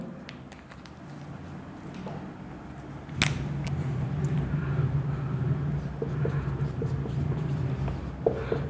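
Chalk or marker scratches across a board during a Class 6 mathematics lesson, giving a continuous rasping stroke with a few sharp taps. It runs close and moderately loud, with no talk over it.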